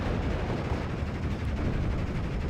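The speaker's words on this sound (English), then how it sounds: "Going to be seeing a shot come in onto the LG40. That's actually the M7 from mid trying to assist on this side." An M7 artillery shot striking an LG40 gun in the World War II strategy game Steel Division: Normandy 44, heard as a dense, continuous rumble of distant shellfire and battle noise with no talk over it.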